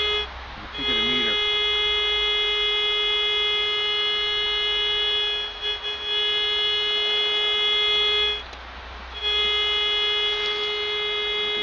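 A Metrotech 480B pipe and cable locator emits a steady electronic buzzing tone with a fixed pitch, sounding in long stretches broken by a few short gaps, moderately loud against a quiet background.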